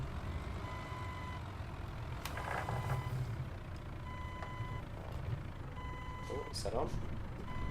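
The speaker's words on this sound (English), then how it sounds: "Now the reversing sounds are different." Reversing beeps from a Renault Magnum Integral truck in Euro Truck Simulator 2, a steady series of evenly spaced high beeps over low engine rumble, with someone talking over them.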